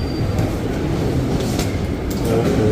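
Train noise fills a Paris railway station with a loud, steady rumble of carriages and wheels close by, and a faint squeal or clack rises above the din now and then.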